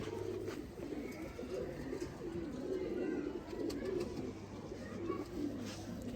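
Sialkoti pigeons, purebred and crossbred breeding pairs kept at home, coo in a continuous low rolling murmur nearby, with voices speaking at times over the sound.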